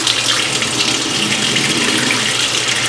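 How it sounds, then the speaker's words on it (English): Water runs steadily from a tap into a sink while warming up, a loud, continuous rushing flow throughout. "let me get my water warm first."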